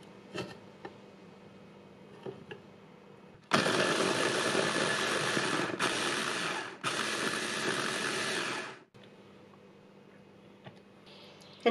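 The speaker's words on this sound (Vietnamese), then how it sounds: "Và cái này thì mình sẽ xay với lại 4 muỗng canh dầu ăn, tức là 1/4 cup" A blender grinds chili ingredients and shallots with cooking oil, a loud steady whirring that runs about five seconds with a short break, then stops abruptly and leaves quiet room tone.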